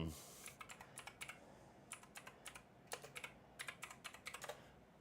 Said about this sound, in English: I'm actually going to type in one right now.